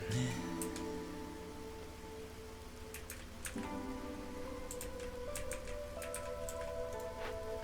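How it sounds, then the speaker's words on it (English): Corrosive rainfall in the colony-building game Against the Storm patters steadily on surfaces with scattered ticking drops, heard under sustained background music tones. "we have to start worrying about corrosive rainfall"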